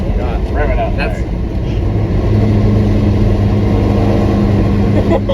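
An International LoadStar grain truck's engine revs as it drives, giving a loud, rough, continuous rumble up close with people talking over it.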